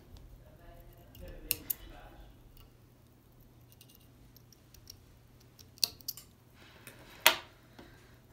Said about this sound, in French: On va venir couper le rachis.